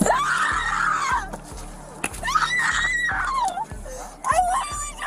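A woman screams repeatedly, shrill drawn-out cries separated by short gaps, close and loud over a steady low thumping beat.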